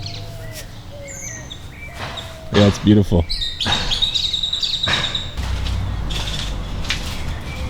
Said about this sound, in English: But look at all the birds. In the morning, the birds.